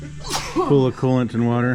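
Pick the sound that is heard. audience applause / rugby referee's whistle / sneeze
sneeze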